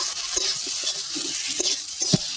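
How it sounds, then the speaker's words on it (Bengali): Fried potatoes are sautéed in an onion-tomato masala for a Bengali fish curry with eggplant, giving a close, soft sizzle broken by short scraping strokes of a spatula. "এবার আলুটা দিয়ে অল্প করে কষিয়ে"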